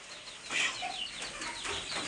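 Four newly bought chicken chicks give soft, faint peeping chirps at a distance over a quiet hissing background.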